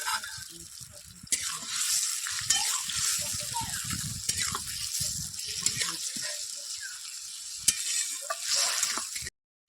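Paneer cubes fry in a pan with tomato sauce and sugar for chilli paneer, a loud, steady broadband sizzle that jumps up after a second, carries on with light scrapes and cuts off abruptly at the end.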